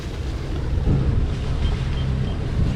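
A sailboat motors at sea into a headwind between the Canary Islands and Cape Verde, its engine giving a low steady drone under constant wind buffeting and wave wash.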